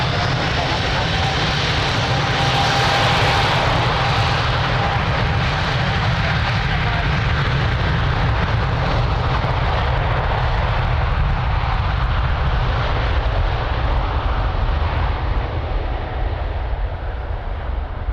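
Airliner taking off from runway 02 at Lisbon Airport, a loud sustained jet engine roar that fades gradually as it climbs away, with radio chatter heard over it.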